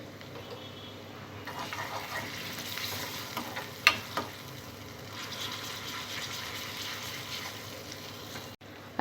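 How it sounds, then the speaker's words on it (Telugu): Sliced onions with ginger garlic paste and turmeric fry in a pan for a cherry tomato curry, a steady moderate sizzle with a couple of sharp stirring clicks and an abrupt cut near the end. "ఉల్లిపాయ ముక్కలు కొద్దిగా ఫ్రై అయిన తర్వాత అల్లం వెల్లుల్లి పేస్ట్,"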